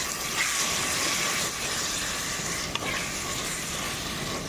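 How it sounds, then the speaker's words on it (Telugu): Prawn biryani mixture being stirred in a pot, a steady close sizzle and scraping with soft wet churning throughout and one sharp tap near the end. "వేసుకున్నాక కొద్దిగా బాగా కలుపుకుందాము."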